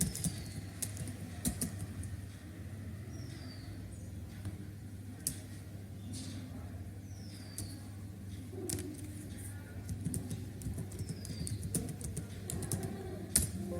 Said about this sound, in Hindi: अब मैं यहाँ कॉन्टैक्ट नंबर एंटर कर रही हूँ।